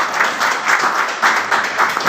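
Audience applause at an engineers' association ceremony, a loud burst of close, dense clapping from a crowd that carries on steadily for the whole moment.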